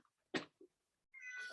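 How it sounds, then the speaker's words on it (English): A cat gives a short, sharp meow, a brief second squeak, then a longer rising cry, close and alone in an otherwise quiet room. "I had a cat in trouble"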